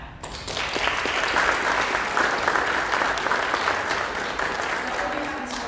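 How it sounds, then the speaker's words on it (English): Audience applause at the grand opening of a lab, a sustained burst of clapping from a crowd that stays strong and fairly even throughout. "And huge applause to all of them because we worked hard to make that happen."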